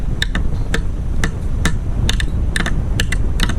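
A dozen or so sharp, light hammer taps land in uneven bursts over a steady low background rumble, tapping roof slate into place.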